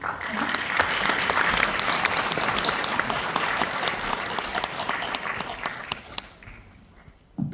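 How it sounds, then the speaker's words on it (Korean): Audience at a regional forum hosted by the Jeonbuk provincial government applauding the governor's arrival, a dense, sustained wash of clapping from a large crowd that gradually thins and fades out near the end. "큰 박수로 지사님을 앞으로 모셔보도록 하겠습니다"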